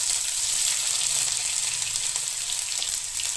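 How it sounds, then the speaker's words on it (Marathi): Steady, close sizzling of mustard seeds, cumin and ginger-garlic paste frying in hot oil for a tempering, a continuous bright crackle with no voices over it. "फोडणीला ना मोहरी आणि जिरे टाकलेले आणि अद्रक लसणाची पेस्ट टाकलेली"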